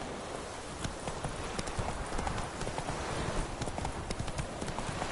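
A horse gallops in The Witcher 3 video game, with fast, continuous clip-clop hoofbeats that stay fairly loud and even throughout, and no talking.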